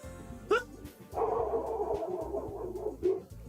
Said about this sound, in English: I don't know if you can hear, but my dogs are barking.